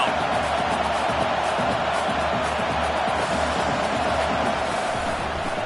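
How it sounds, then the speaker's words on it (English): Stadium crowd cheering and roaring for the defense on third down in the Madden 24 football video game, a dense, loud, continuous wash of noise throughout. "Decibels rising as the crowd gets behind this defense on 3rd down."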